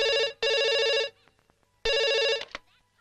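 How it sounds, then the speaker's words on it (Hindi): Old-style telephone bell ringing loudly indoors in two long electronic bursts separated by a pause, with faint room noise and a brief click after the second ring. "अरे अप्पू, तेरे लिए फोन है।"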